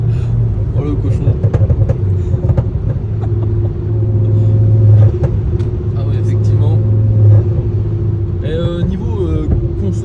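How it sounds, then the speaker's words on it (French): A nervy five-cylinder car engine accelerates on the road with popping from the exhaust. Its deep rumble holds steady and then builds, while voices talk over it inside the car. "On est sur une voiture qui marche quand même, on reste sur un 5 cylindres assez nerveux"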